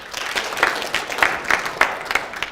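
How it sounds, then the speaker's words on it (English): An audience applauds steadily for a few seconds, dense clapping with occasional louder bursts, no voices over it. "give yourself a round of applause"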